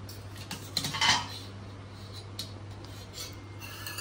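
Plates and cutlery clinking while lunch of fried potato and pointed gourd with catfish curry is served, a cluster of sharp metal and ceramic clinks early on, then sparse taps over a low hum.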